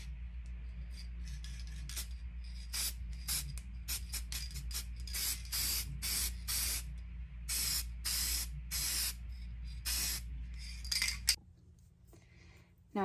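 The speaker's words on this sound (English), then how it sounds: "I'm going to spray the hardware with metallic gold leaf by Krylon." A Krylon metallic gold leaf spray paint can sprays furniture hardware in a long run of short hissing bursts with brief gaps between them, close and fairly loud, before stopping.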